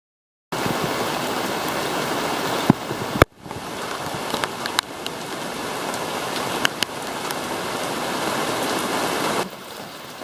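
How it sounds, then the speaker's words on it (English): Heavy rain falls hard and steady outdoors, a thick constant roar of drops with a few sharp knocks and taps breaking through, the sound cutting in abruptly after a short silence. "it's raining. It's actually raining pretty hard."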